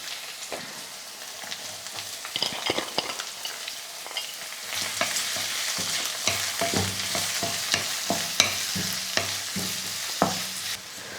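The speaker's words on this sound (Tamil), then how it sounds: "100 கிராம் சின்ன வெங்காயம் பொடியாக கட் பண்ணி வச்சுருக்கேன், அதையும் சேர்த்துக்கிறேன்." Chopped shallots and garlic fry in a pan with steady sizzling under repeated sharp scrapes and stirs of a spatula, close and fairly loud throughout, with no talking.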